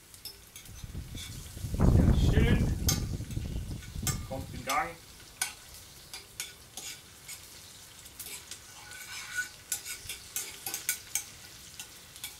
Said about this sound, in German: Aber eine Gabel wäre nicht schlecht, damit ich hier mal umrühren kann.